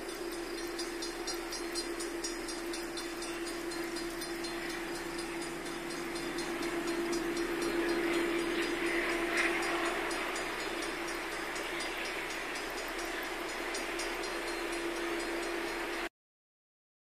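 A Chicago Great Western diesel freight train rumbles steadily past with a droning engine note and rhythmic wheel clatter, swelling louder midway, with no voices.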